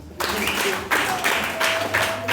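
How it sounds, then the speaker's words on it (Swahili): An audience breaking into applause in a few rolling waves of clapping, with a voice carrying over the crowd noise. "Hebu nipigie makofi."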